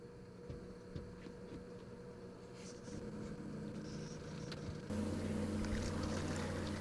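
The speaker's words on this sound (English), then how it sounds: "the trolling motor was doing all the work" Quiet electric trolling motor humming steadily on a fishing boat out catfishing, a low constant whine with light water and wind noise, growing slightly louder toward the end.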